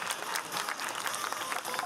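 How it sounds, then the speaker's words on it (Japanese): An audience claps before a dance show, a brief, continuous round of applause from many hands at moderate volume. "拍手"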